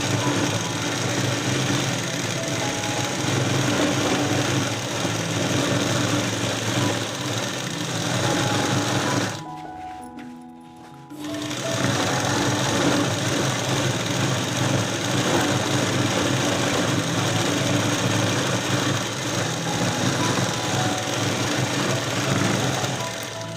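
Sewing machine stitching a chudidar pant, running steadily and loudly with a brief pause midway before resuming its continuous whir.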